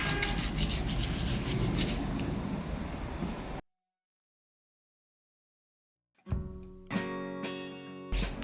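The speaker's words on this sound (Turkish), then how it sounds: "kaldıramadığım yerleri zımpara yapıyorum." Hand sanding of painted wood with sandpaper while distressing a masking-technique paint finish, a dense rough rasping for a few seconds, then silence, then closer, more uneven scraping strokes resuming.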